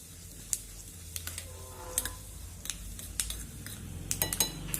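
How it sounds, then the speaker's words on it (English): Urad dal gets a quick stir in a pan, with sharp irregular clicks and taps from the spoon over a low frying hiss. "Give it a quick stir."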